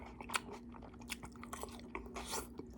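Close, wet chewing and crunching of a bite of steak with sweet onions sautéed in butter and rice wine, with a steady soft rhythm of jaw movements and no speech.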